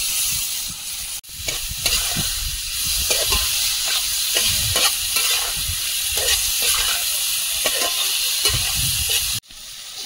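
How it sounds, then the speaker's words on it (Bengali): Spice masala with cumin powder, coriander powder, chopped tomato and a little water fries in a pan, with a continuous close sizzle and hiss and intermittent stirring scrapes, and no talking. "মশলাটা ভালোভাবে কষিয়ে নিচ্ছি।"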